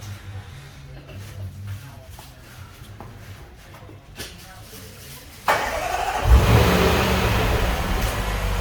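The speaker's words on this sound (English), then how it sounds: "Once we've sent the command to the alarm, the car will remote engine start." A Range Rover Sport's engine turns over and catches by remote start through a car alarm, then settles into a steady running rumble, loud and close, after a stretch of quieter background noise.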